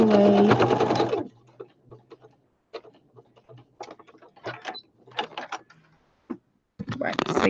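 A sewing machine back stitching the length of a seam on a handmade fabric flower basket, stitching in short irregular mechanical bursts at close range between pauses, with someone talking before and after.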